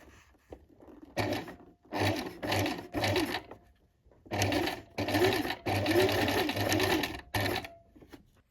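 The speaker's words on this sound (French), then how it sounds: "Vous allez ouvrir vos marges de couture et réaliser 2 surpiqûres pour maintenir vos marges de couture." A sewing machine runs in bursts to topstitch the opened seam allowances of an elastic-waist skirt, making rapid mechanical whirring and needle chatter, close and loud, with short pauses between stitching runs.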